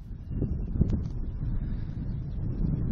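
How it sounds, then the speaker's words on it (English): Low, rumbling wind buffets the microphone in uneven gusts on a mesa in Santa Fe National Forest, a steady blustery roar with no voices. "it's misting a little bit, the sun's out, it's a little windy"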